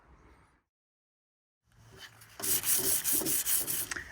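Rough, scratchy rubbing strokes of sanding on a car body panel before spray painting, loud and close, starting after a brief silence and continuing in quick repeated passes.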